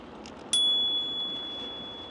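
A bicycle bell on a budget Mokwheel Mesa Lite ST 2 e-bike gives one bright, sharp ring that hangs and fades slowly over a quiet outdoor background, with no talk.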